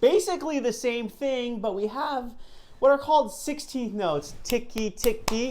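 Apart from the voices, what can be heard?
No everyday noises stand out.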